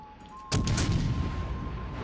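Secondary guns on a ship in World of Warships fire a sudden loud blast after a quiet moment, followed by a rumbling, sustained roar of gunfire.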